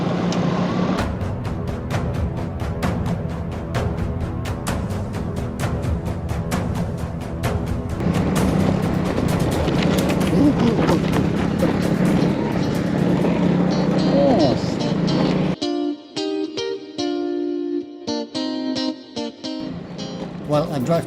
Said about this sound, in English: While I drive to the other side of this muddy lake